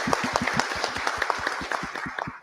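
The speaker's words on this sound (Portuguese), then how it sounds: "Pessoal, uma salva de palmas aqui." A small audience claps together after a debate, a brisk, even patter of hand claps lasting a couple of seconds, close and moderately loud.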